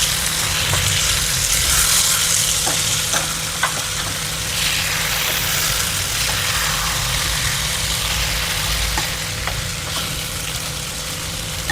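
Egg and tomato fry in a pan, giving a steady, fairly loud sizzle with faint crackles and occasional light ticks over a constant low hum, with no talk.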